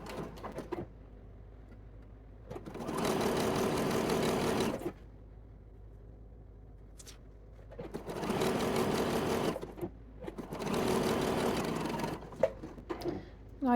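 Sewing machine stitching a curved lace bodice cup seam at a 3/8 inch allowance, running in two long bursts of steady whirring with a quiet pause between, plus small handling clicks.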